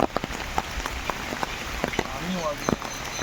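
Rain patters and taps on a surface in a steady, irregular stream, with scattered louder drops and some faint background voices.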